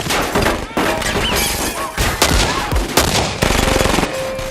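A film shootout between a lone fighter and triad gang members, with dense rapid machine-gun bursts and gunshots mixed with crashes, shattering and thuds, loud and continuous for the whole stretch.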